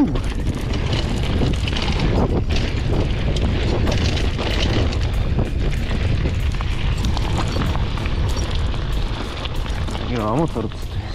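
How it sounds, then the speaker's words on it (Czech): A motor vehicle engine runs loudly and continuously, a dense rumble that holds steady throughout, with people talking over it. "motor prostě"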